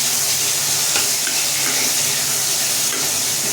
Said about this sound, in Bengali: টমেটো, দিয়ে দিলাম। এবার এটাকে একটু হালকা নাড়াচাড়া করবো,